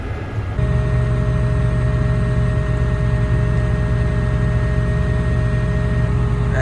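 An old tractor engine runs steadily at close range during bean cutting, a continuous low mechanical drone with a tonal hum after a brief quieter start, holding even as the driver double clutches into second gear.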